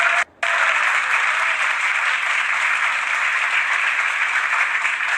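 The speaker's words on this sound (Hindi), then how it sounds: "और इस पर ताली आ जाए" An audience claps and cheers at a live stage performance. The loud, steady applause continues with only a momentary break near the start.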